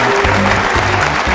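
A crowd applauds and cheers a contest winner in a hall with a balcony, a loud, steady wash of clapping filling the whole moment.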